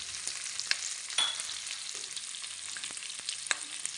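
Capsicum and carrots stir-frying for sweet and sour chicken meatballs, a bright continuous sizzle broken by a few scraping stirs and light clicks of the utensil in the pan, close and fairly quiet, no voices.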